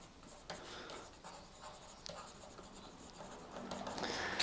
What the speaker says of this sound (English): write your label